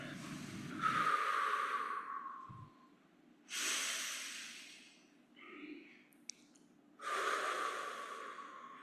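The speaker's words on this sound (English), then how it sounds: "Let's begin by breathing together." A group breathes together during a meditation or prayer in a Unitarian service: three long, soft, hissing breaths spaced a few seconds apart with quiet gaps between them.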